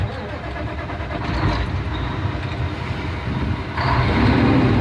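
A heavy truck's diesel engine being started during a CDL pre-trip inspection, cranking and catching into a steady loud rumble that swells again near the end, close by with no talk over it.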